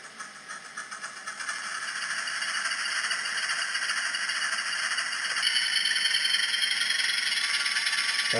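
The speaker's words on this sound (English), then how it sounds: "Got the engine up and running." An N gauge model train sound car plays a diesel engine sound through a small 28 mm speaker, a thin, steady hissing drone with rattle that swells slightly and holds constant throughout.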